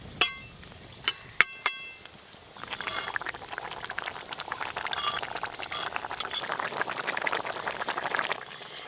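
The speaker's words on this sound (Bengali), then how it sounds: "লাউয়ের ঝোল একদম টকবকে হয়ে ফুটে গেছে" Bottle gourd and shrimp curry coming to a boil in a village kitchen, a few sharp clinks of utensils at first, then a busy, crackling bubble that grows steadier and fuller.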